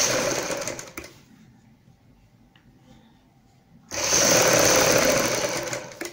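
A sewing machine stitches lace onto a salwar hem. A loud, fast mechanical whir runs for about a second, then stops for a quiet pause. It starts up again for a longer, steady burst of stitching.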